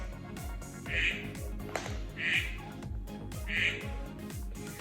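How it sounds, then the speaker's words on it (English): Three evenly spaced toy duck quacks from a baby's sound board book, slightly electronic in tone, play over a looping synthetic melody. "the duck will make 4 quack sounds"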